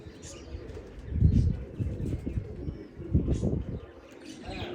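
Pigeons coo in low, throaty repeated phrases close by, swelling in two main bursts, with light chirps and brief wing flutters mixed in.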